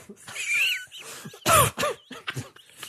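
Someone coughs and clears their throat in a few short bursts, loud and close, during a soccer podcast recording, with one strong cough in the middle.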